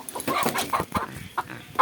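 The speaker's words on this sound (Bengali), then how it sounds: "কোথার থেকে উড়ে চলে এসছে পোষা মুরগি" A domestic hen clucks close by in a quick series of short, sharp bursts with brief pauses between them.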